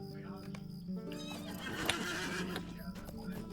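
A horse neighs loudly in the online game Lord of the Rings Online during a spring festival race, its whinny rising over a steady game soundscape with clip-clop hoofbeats and faint background sound.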